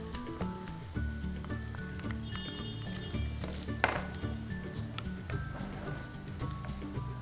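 Garlic and ginger sautéing in a pan for creamy mushroom chicken pasta, a soft, even sizzle like light rain, with a few faint stirring taps, under steady background music.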